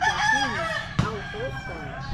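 Fighting roosters at a training pen in Tanjay City, Philippines, crow loudly. Several overlapping calls rise and fall against a busy background of clucking birds, with one brief sharp thump in the middle.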